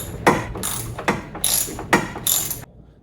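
A ratchet wrench on an extension loosens a battery bracket bolt in a 2022 Chrysler Pacifica, giving five or six close, crisp ratcheting strokes in steady rhythm, then stopping.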